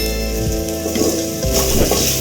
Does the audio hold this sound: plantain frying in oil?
yes